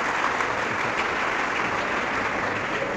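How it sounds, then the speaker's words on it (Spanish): An audience at a religious debate applauding visiting priests, a dense, steady wash of clapping that fills the whole stretch with no voices above it. "Aplausos pues para los sacerdotes que también nos acompañan"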